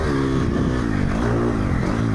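Triumph 250 cross-country motorcycle engine running loud and close, its harmonic tone rising and falling as the throttle is blipped in continuous revs with no break.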